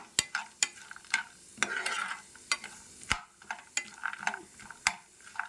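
Cashew nuts frying golden in a pan for semiya kesari halwa, with sharp scraping and clinking strokes of a spoon against the pan over a soft sizzle, irregular and close.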